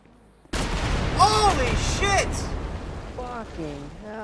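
A sudden loud blast goes off in a GTA 5 multiplayer roleplay session, followed by a lingering rumble as someone speaks over and after it.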